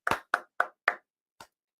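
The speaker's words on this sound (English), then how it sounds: "clap it up, everyone" A few people clapping, five sharp separate claps in quick succession followed by a short pause and one last softer clap, close and dry with no voices.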